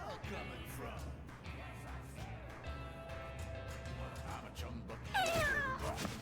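Cat meows from the video game Mewgenics ring out over busy game sounds, with a sharp, rising meow standing out near the end.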